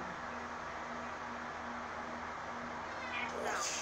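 A house cat meows once or twice near the end, rising over steady background noise and a low hum, close to the microphone with a person speaking nearby.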